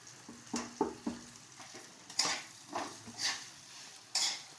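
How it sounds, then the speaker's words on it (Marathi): A spoon scrapes and stirs hing, turmeric and chili powder masala in a pan, the strokes coming in several distinct scraping bursts with faint sizzling between them, near and alone. "चांगले असे मिक्स करून घ्यायचे हिंग टाकायचं आहे हळद आणि तिखट टाकून घ्यायचं"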